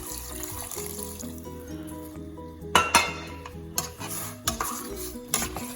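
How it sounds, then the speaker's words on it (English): Water splashes into a cooking pot for asparagus soup, followed by clinks and stirring knocks of a utensil against the pot, moderately loud and close. "Now you add water in here. I have 4 cups of water."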